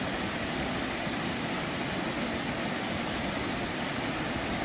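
A mountain stream in Hwangryongsa valley rushes in a dense, steady broadband roar, constant and fairly close with no voices.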